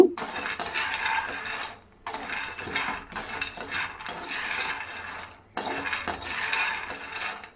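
Roasted lentils pour and rattle into a winnowing basket in bursts, a loud dry rustling clatter interrupted by brief pauses between pours.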